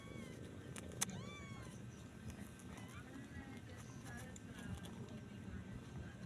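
Cats squabble over food indoors, with one sharp yowling meow near the start over a steady background murmur and a few faint scattered noises.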